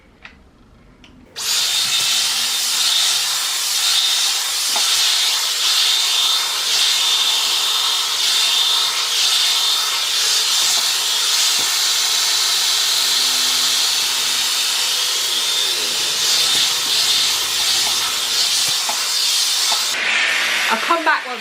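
A handheld hair dryer fitted with a concentrator nozzle blows steadily and loudly for about twenty seconds, a constant broad airy roar starting abruptly after a brief quiet moment, used to smooth hair after a Living Proof Triple Bond Complex treatment.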